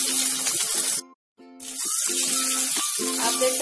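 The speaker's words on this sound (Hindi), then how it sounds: "दोनों साइड से हम पलट पलट कर अच्छे गोल्डन ब्राउन होने तक तलेंगे।" Paneer pakoras sizzle and bubble steadily in hot oil over a medium gas flame, a close, continuous frying hiss with a brief near-silent gap partway through.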